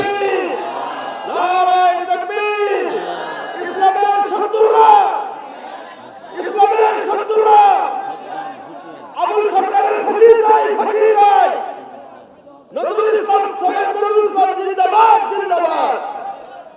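A crowd at a religious gathering shouts back the takbir response in loud chorus, several bursts of massed voices rising and falling with short pauses between them.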